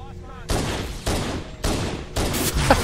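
Bursts of gunfire in the Halo CE video game during a co-op campaign, loud and close, coming in several sustained volleys with brief gaps between them.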